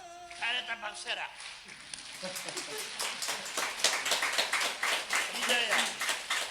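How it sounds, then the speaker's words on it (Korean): Crowd of people clapping hands in a dense, continuous patter of applause that builds and holds, with singing and talking voices over it at the start. "잘했다 박수해라."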